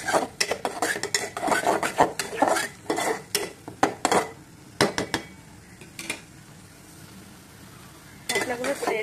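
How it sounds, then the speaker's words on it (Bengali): A utensil scrapes and clatters in a pan as chili, coriander and cumin spice mix is stirred, giving irregular close knocks and scrapes with a soft sizzle between them, pausing briefly before resuming. "মশলাগুলো সব মিক্স করে দেবো ভালো করে।"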